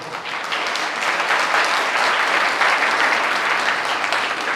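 An audience at a Jain religious sermon in Itarsi, Madhya Pradesh claps together in a broad, even wave of applause that builds quickly and holds steady, with no talk over it.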